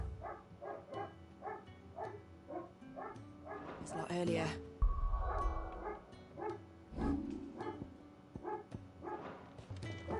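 Several dogs bark repeatedly in short bursts, fairly close, while a person talks over them, in the video game Final Fantasy XVI.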